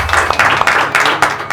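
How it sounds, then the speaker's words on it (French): Applause for comedian Hakim Djemil at a live show, a dense steady wash of clapping from the audience that holds for a moment with a few sharper swells. "un tonnerre d'applaudissements pour Hakim Djemil"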